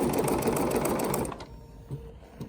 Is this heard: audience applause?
no